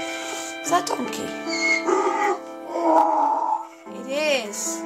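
A donkey in the Minecraft video game brays in a series of harsh, wavering, tonal hee-haw calls, loud and close, with a few pauses between them.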